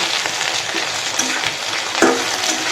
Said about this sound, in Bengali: আলুর সাথে মিশিয়ে নিচ্ছি